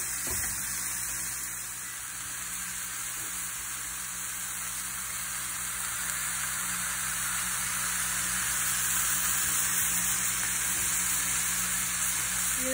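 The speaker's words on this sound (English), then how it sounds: "it's about 4 minutes on each side for searing" A tri tip roast sears in a hot pan, giving a steady, broad hissing sizzle that holds at an even level throughout, close and fairly loud, with no one talking.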